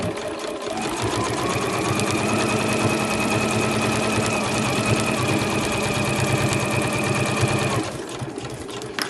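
A sewing machine runs a straight stitch along a zipped cushion cover seam, a steady continuous whir at close range for most of the stretch before stopping near the end, with no talking.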